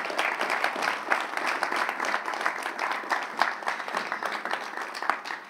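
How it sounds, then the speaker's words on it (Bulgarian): Clapping fills the hall at an awards ceremony for young Bulgarian athletes, steady and fairly even applause from a large audience throughout, without a break. "Още един път аплодисменти за това прекрасно момиче."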